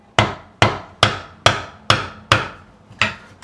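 A fretting hammer's nylon face taps frets into a re-radiused Telecaster neck during a refret: seven crisp, evenly spaced knocks, each with a quick decaying ring, loud and close with no voices.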